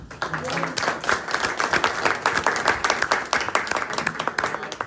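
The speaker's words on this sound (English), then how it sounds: "another round of applause for others just that are sort of new to their roles" Steady applause from a crowd at a church parish meeting, dense clapping throughout with voices mixed in underneath.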